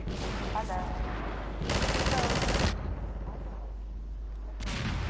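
A mounted turret gun in Half-Life 2 fires loud, rapid automatic bursts, a short volley followed by a longer sustained burst and then another brief one.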